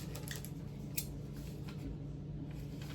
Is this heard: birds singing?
no